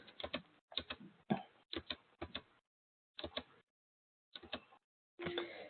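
Short bursts of keys tapped on a computer keyboard, entering a page number, clustered clicks in quick groups separated by silent pauses, close and fairly quiet, no talking.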